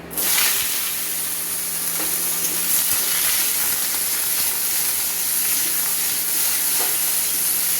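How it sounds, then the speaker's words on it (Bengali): Vegetables with brinjal and beans fry in hot oil in a wok, giving a loud, continuous bright sizzle with a few stirring scrapes underneath and no one speaking. "এবারে সবজিগুলো একটু ভালো মতো করে ভেজে নেব"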